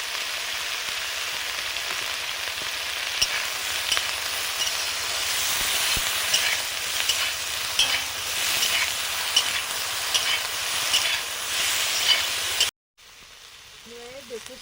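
Betho greens sizzle and fry steadily in a hot pan with light stirring scrapes, a continuous close hiss that stops abruptly near the end, followed by faint background sound.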